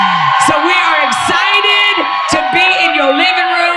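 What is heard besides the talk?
audience whooping and cheering in a podcast studio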